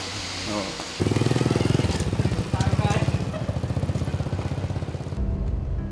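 A motorcycle heading home in Indonesia: a nearby engine putters in a steady, fast rhythmic thrum, rising and falling slightly as it rides, then cuts off abruptly near the end.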